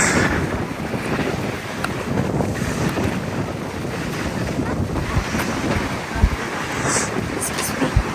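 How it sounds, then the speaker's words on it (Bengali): Strong wind buffets the microphone by open water at Squamish, a steady loud roar with waves and surf beneath, gusting continuously, with a brief louder thump near the end. "অনেক বাতাস।"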